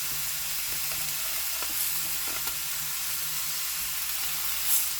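Trout fillets sizzle in butter in a pan, a soft and steady crackling hiss that sits fairly low in level, with a few faint pops and the scrape of stirring now and then.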